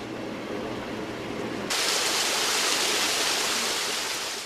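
An artificial waterfall at a hospital rushes steadily, a close, constant wash of falling water that grows fuller and louder partway through.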